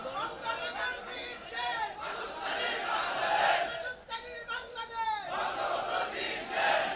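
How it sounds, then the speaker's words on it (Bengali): A crowd at a political rally in Mirsarai, Chattogram chants a slogan in loud, rhythmic waves of many voices, rising and falling with short gaps between shouts. "আরেকটা স্লোগান দেই, বঙ্গবন্ধুর দিন শেষ, মাসুদ সাঈদীর বাংলাদেশ"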